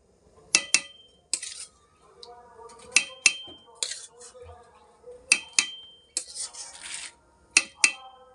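A spoon stirs spice paste into khichuri in a cooking pot, giving irregular sharp metallic clinks and scrapes in bursts with short quiet gaps.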